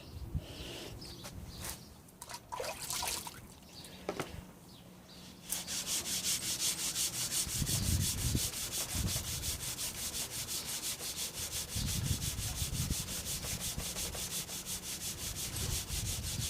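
Synthetic sharpening stones are lapped on 120 grit sandpaper, first in uneven scraping strokes, then in a loud, continuous gritty rubbing that is close and steady.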